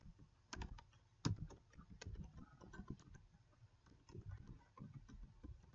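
Quiet keystrokes on a computer keyboard as a command is typed, a steady run of light clicks and taps with a few sharper presses, heard alone without talk.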